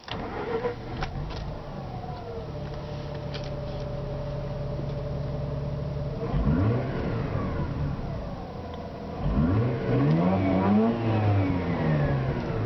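A 2006 Mazda RX-8 with a 1.3 litre rotary engine idles steadily, then is revved twice in rising and falling sweeps, the second rev longer and stronger, heard close up.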